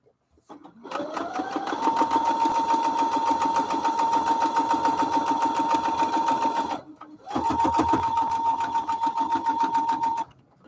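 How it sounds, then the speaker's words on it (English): A sewing machine stitching a paper-pieced strawberry quilt block, a loud, close, rapid steady whir of needle strokes that runs for several seconds, pauses briefly, then resumes before stopping. "And I'm going to sew in the line"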